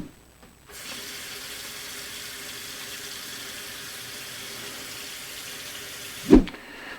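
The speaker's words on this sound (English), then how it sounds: "Let's go ahead and add the water." Water pours steadily from a tap or hose onto grass and hay feed pellets, a continuous close hiss and splash that ends with a brief louder knock near the finish.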